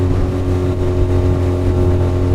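A Yamaha F25 25 hp outboard motor on a 4-metre Quintrex 400 Dart aluminium boat drones steadily at close range without cavitating, a loud constant engine hum with strong low tones and rushing water noise.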